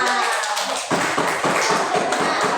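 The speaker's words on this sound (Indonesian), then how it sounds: "Beri tepuk tangan untuk kita semua." Applause from a classroom of children after an Indonesian math lesson on dividing fractions, a short burst of scattered, close claps beginning abruptly after a brief quiet moment.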